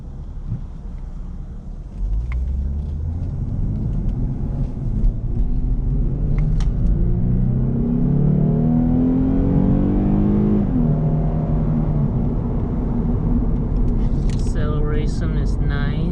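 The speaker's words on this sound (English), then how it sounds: "Acceleration is nice thanks to the V6." A 2015 Lexus IS350 AWD with a V6 engine accelerating on the road, a loud steady drone rising in pitch through the gears, heard from inside the cabin with a brief upshift near the end.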